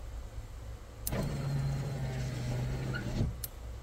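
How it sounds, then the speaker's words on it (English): A Toyota Supra's electric window motor whirs steadily for about two seconds as the glass rolls up, ending with a soft clunk, over a low background rumble. "And now the window's up"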